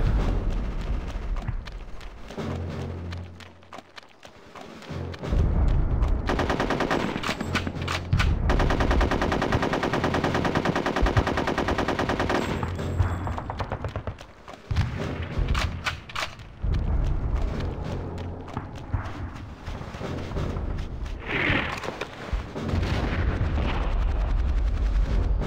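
Gunfire in Conker's Bad Fur Day, with rapid automatic bursts and heavy blasts repeating through a long stretch of loud game action, sometimes pausing and then erupting again.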